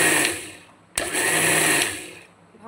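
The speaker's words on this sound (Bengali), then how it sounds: "এটা আবার মিক্সার গ্রাইন্ডারে মিক্স করব" A mixer grinder whirs loudly as it blends a curd mixture made with sour yogurt, running steadily, cutting out briefly about a third of the way in, then restarting and winding down near the end.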